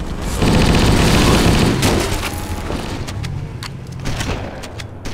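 Loud, dense gunfire bursts and booming explosion in the Halo video game on an Ice Fields map, with a grenade blast among sustained weapon fire that fades into scattered sharp shots.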